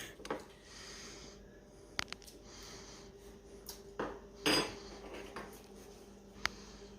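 Spoons clinking against containers while BBQ sauce is tasted, several sharp light metallic taps scattered among soft kitchen shuffling and faint voices.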